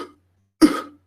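A single sharp, forceful cough, close and loud, demonstrated during a lecture on the respiratory system, preceded by a faint breath and followed by silence.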